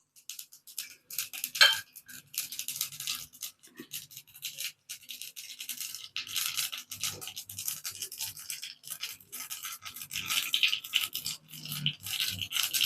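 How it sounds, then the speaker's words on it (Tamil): Dense, crackling spatter of mustard seeds popping in hot oil, a steady sizzle with sharp irregular pops, close and fairly quiet throughout. "இப்போ கடுகு நல்லா பொரிஞ்சிருச்சு"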